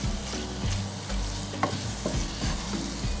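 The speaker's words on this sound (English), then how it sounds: "You add and you stir properly." Minced meat sauce for lasagne being stirred in a frying pan: a steady close sizzle with repeated scraping spoon strokes, no voices.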